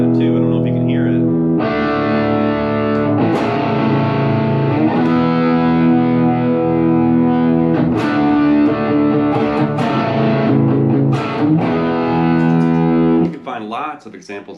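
Distorted electric guitar chords run through effects in a loop, loud and sustained, with a heavy rock tone, holding steady for about thirteen seconds before cutting off.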